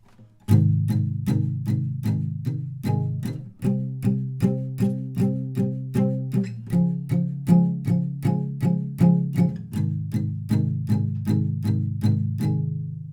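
Palm-muted acoustic guitar strums a steady run of short, even eighth-note chord hits for the intro of a song, close and clear, chords changing every few bars with no talking.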